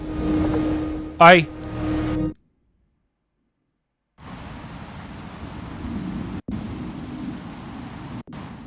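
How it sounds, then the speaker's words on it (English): A thunderstorm with heavy rain in the video game Caravan SandWitch roars as a dense wash of rain and rumble, with a brief sharp crack early on. Near-silence follows for two seconds, then the steady downpour returns. "Let's get inside the storm."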